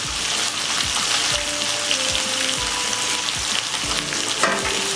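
Chicken pieces fry in a cooked spice masala for a chicken roast, a dense, close sizzle with rhythmic spatula strokes stirring through the pan.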